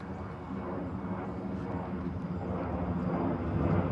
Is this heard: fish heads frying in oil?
no